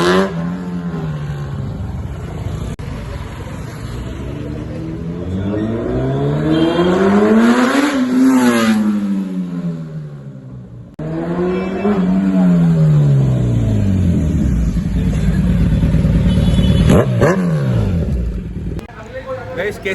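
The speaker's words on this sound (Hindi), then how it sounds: "बाकी चलिए चलते हैं इसकी आवाज़ देते हैं आपको इसका फ्लाई बाय," A Kawasaki Z900 motorcycle with an original Akrapovic titanium exhaust roars past in two loud fly-bys, its engine note rising and falling in pitch as it approaches and recedes.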